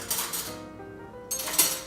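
A metal fork mashes and stirs food in a bowl for a Thanksgiving dish, giving a few close clinks and scrapes against the bowl with a short quiet pause in the middle.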